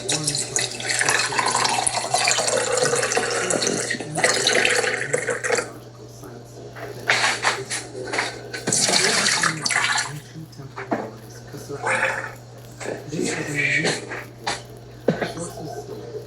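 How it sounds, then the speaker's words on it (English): Fresh water poured into a container, a broad steady rush of flowing water with splashy bursts that stops and restarts several times, close and fairly loud under a constant low hum. "when I pour the fresh water in there"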